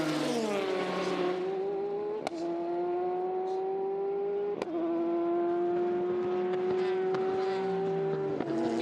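Le Mans prototype race cars, Toyota and Porsche among them, run on track as a steady high engine drone, with gear changes and sharp shifts in pitch as cars pass one after another.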